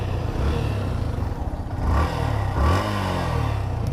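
A Yamaha FZ S Fi Version 2 motorcycle idles with a deep, bassy growl, then is revved twice in quick swells before settling back to a steady low rumble, close and loud with no talking.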